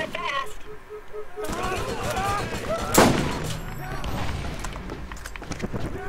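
Gunfire in the game Borderlands, a sharp loud shot near the middle amid clattering game effects and chirpy mechanical sounds, with a voice talking over parts of it.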